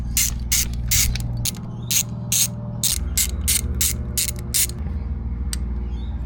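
A ratchet clicks steadily in quick bursts while backing out 10 mm bolts from the shifter plate of a Mazda MX5 NC, close and loud over a low steady hum, with brief pauses between runs.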